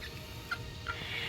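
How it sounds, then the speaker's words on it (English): Pet birds give two short, faint chirping calls about half a second apart over a low, steady background rumble. "Good little birdie birds."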